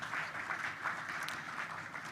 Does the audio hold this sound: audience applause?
yes